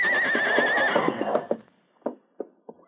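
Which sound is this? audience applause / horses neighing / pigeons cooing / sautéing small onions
horses neighing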